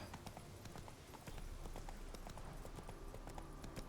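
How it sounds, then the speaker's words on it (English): The horse's hooves in The Witcher 3 video game beat out a rapid, steady galloping clip-clop under constant game background sound, close and continuous, with faint talk barely present. "Come on, Roach. Move it."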